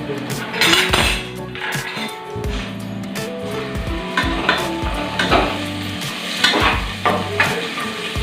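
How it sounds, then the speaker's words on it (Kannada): Onions fry in oil in a pan for egg biryani, with a steady sizzle under repeated stirring scrapes and clinks of a utensil against the pan, close and fairly loud, no talking. "ಮತ್ತು ಇದರಲ್ಲಿ ಈರುಳ್ಳಿಯನ್ನು ಬೇಯಿಸ್ಕೊಳ್ತೀನಿ"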